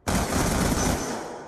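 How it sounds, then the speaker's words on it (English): Rapid burst of gunfire in a shooter game, fired at cardboard cover: a loud, dense volley lasting about a second before tailing off, with no voices. "now apparently you can shoot through cardboard"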